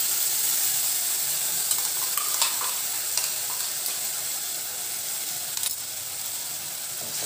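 Ginger, garlic and green chili paste sautéing with onions in a hot pan makes a bright, steady sizzle broken by sharp clinks and scrapes of a ladle against the metal.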